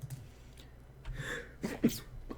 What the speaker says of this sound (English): I feel a sneeze coming on, guys.